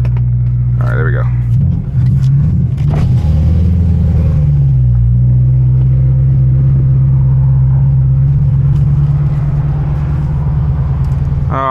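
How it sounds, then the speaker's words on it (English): A car engine idles steadily and close by with a low continuous rumble after a brief surge, while people talk over it inside the vehicle. "Oh, I miss this car."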